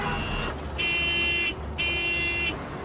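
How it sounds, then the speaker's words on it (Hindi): A car horn in the cartoon Oggy and the Cockroaches blares in two long sustained blasts, each about a second, over a low background rumble of traffic. "हॉर्न काय को बजा रहा है"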